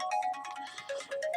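A cell phone ringtone plays a short repeating electronic melody of bright tones, clear and moderately loud with no talking over it.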